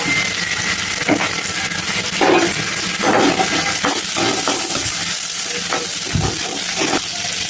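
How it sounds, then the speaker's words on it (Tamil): Chili, raw rice, salt and turmeric sautéing in a pan for a Tamil mango pachadi, with a steady loud sizzle of frying throughout and occasional stirring scrapes and clinks of a spoon against the pan. "மிளகா பச்சரிசி உப்பு போடுறோம் நல்லா வதங்கட்டும் மஞ்சள் தூள் போட்டோம்"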